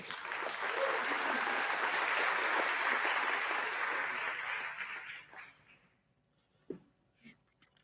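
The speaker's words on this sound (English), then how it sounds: "Round of applause one more time for Asher." Sustained audience applause at a film festival awards ceremony, full and even for about five seconds before fading out, followed by a few faint scattered sounds.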